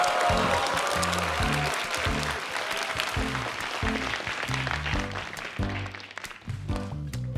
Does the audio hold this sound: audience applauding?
yes